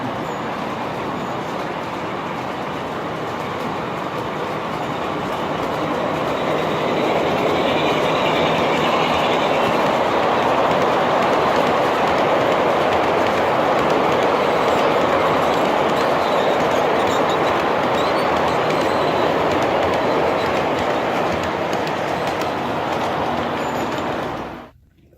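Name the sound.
model garden railway trains running on track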